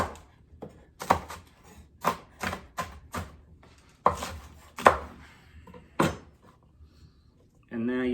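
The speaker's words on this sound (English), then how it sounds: "And then just start dicing that stuff up." A kitchen knife dices vegetables for loaded baked potato soup on a board, with a run of sharp, close chopping strikes in uneven bursts, then a brief pause before a voice starts speaking at the end.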